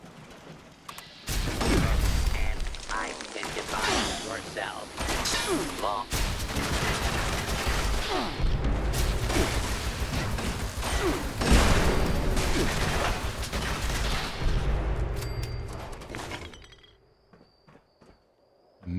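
Automated turret gunfire in Fallout 76 near Sugar Grove, loud sustained bursts and rattling fire running almost the whole clip with mechanical clatter, fading out near the end; a voice talks over it.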